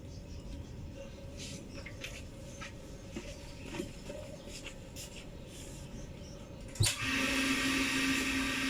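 A water pump on a pressurised water tank kicks on with a sudden thump, then settles into a steady, loud whirring hum after quieter fiddling and clicking sounds beforehand.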